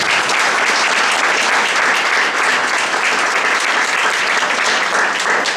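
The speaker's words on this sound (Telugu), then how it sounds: "చప్పట్లు కొట్టుకున్నారు దయచేసి" A church congregation applauds steadily and loudly for several seconds, a dense wash of many hands clapping with no talk over it.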